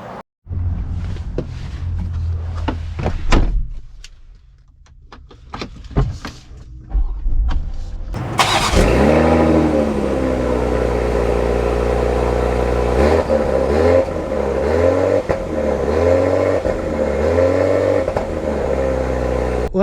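A 2024 Lexus GX550 or 2024 Ineos Grenadier SUV: sharp clicks and handling noises give way to an engine starting and settling into a loud, steady idle with rising and falling revs, no voices.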